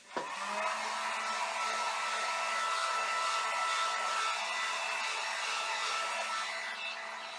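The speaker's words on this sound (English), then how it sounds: "I'm going to dry it a little bit with my heat gun" A heat gun dries a damp picture frame, its steady, close blowing whir starting abruptly and running unbroken to the end with no talking.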